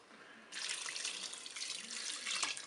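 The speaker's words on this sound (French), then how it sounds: "je vais rajouter de l'eau." Water runs steadily from a tap or jug into a Cookeo multicooker pot holding spaghetti with tuna, peeled tomatoes and white wine, a continuous close splashing pour lasting a couple of seconds with no talk.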